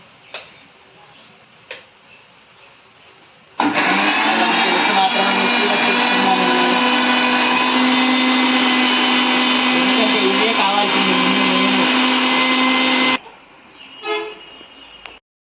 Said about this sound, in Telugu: మిక్సీ పట్టేసుకోవడమే.